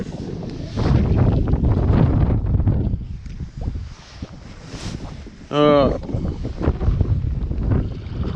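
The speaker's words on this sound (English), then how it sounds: "She is windy out here." Strong wind buffets the microphone outdoors on the Macleay River in Australia, with gusty rumbling and a brief whoop partway through.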